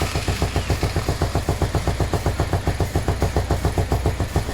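Suzuki DR 750 motorcycle engine idling close by with a fast, even, pulsing thump, loud and steady throughout with no voices.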